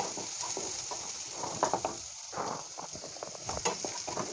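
Ginger and garlic fry in a pan while a dahi masala bhendi (okra in spiced yogurt) is cooked, giving a steady close hiss of sizzling broken by scattered stirring clinks and scrapes.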